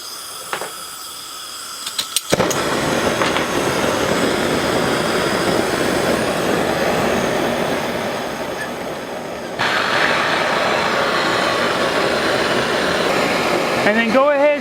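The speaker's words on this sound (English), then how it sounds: "grab either your mini torch or your heat gun, plug it in, turn it on" A heat gun or mini torch, used to remove a broken oil dipstick, switches on with a click and runs as a loud, steady blowing roar that shifts slightly in pitch midway and continues to the end.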